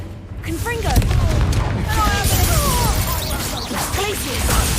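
A Confringo fire spell bursts in the Hogwarts Legacy video game, giving loud booming blasts and crackling impacts amid combat noise, with voices and other spell effects layered over the battle.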